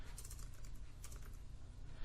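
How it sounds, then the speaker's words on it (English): Quick, light keystrokes on a computer keyboard patter in an irregular run of clicks, fairly close but quiet, with no talking over them. "So if we just start typing in,"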